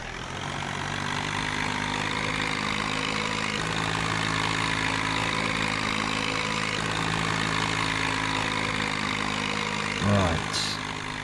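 A tractor in Farming Simulator 19 idles with a steady, rough, noisy drone, its low engine tone holding evenly throughout with a brief extra rumble near the end.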